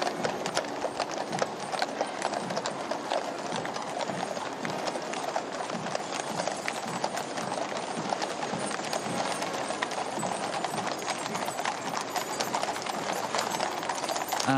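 Massed hooves of the King's Life Guard horses clip-clop steadily on a paved parade route in London, a dense continuous clatter of many horses passing close by, with faint crowd murmur underneath.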